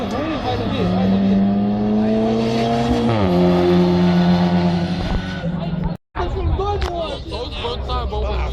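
Audi car at a drag race in Juiz de Fora, its engine droning loudly and rising in pitch as it accelerates, then a brief cut and renewed roaring engine noise amid crowd babble.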